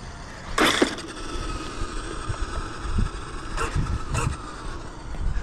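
Engine of a 5th-scale Vigilante RC car on its first run: a steady buzzing drone throughout, rising in a few brief louder revs, heard at moderate distance with some background noise.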